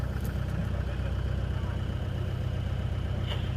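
A safari vehicle's engine hums steadily at low pitch as it prepares to pull out on an evening game drive, a constant near drone with a faint high squeak near the end.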